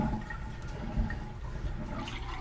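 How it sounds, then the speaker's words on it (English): Water drains out of a basin used for washing white boots, a steady close gurgling rush that holds evenly throughout. "Drain the water here."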